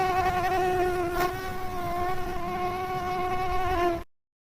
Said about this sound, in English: The bee.